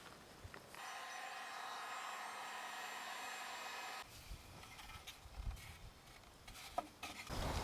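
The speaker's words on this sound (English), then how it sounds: "I'm trying to bend it with heat so it looks nice coming up this pole." Heat gun blowing hot air onto wire conduit to bend it at an outdoor off-grid home build in Vermont, a steady close whooshing roar for a few seconds that cuts off, leaving light handling clatter and outdoor ambience.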